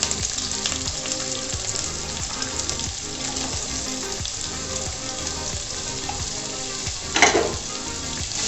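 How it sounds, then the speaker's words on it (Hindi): Onions sizzling and frying in a pan while being stirred for Hakka noodles, a steady crackling hiss throughout with a brief louder stir scrape near the end. "प्याज डाल के थोड़ा सा इसको चलाएंगे।"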